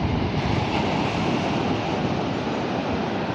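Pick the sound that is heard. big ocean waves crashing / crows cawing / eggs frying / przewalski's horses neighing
big ocean waves crashing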